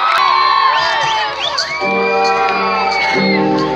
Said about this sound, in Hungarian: Magatoknak egy hatalmas tapsot!